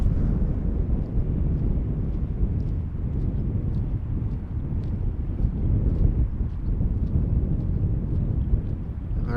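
An Embraer airliner arriving on runway 18R at Amsterdam Schiphol, a steady low jet rumble mixed with wind buffeting on the microphone, with no speech.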